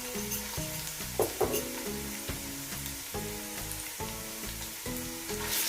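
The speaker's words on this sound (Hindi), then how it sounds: "अब हम इसमें थोड़ा सा लहसुन अदरक का पेस्ट जो था वो भी डाल लेते हैं" Ginger garlic paste fries in a pan for beef pulao, giving a steady close sizzle with brief louder crackles and stirring scrapes throughout.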